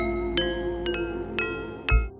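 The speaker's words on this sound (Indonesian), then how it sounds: "Suara gong dipukul lambat 3 kali lalu hening." A gong in a remote mountain setting rings three slow, spaced strikes with ringing metallic tones, each ending in a sustained decay, over a low steady hum. A final heavier thud follows.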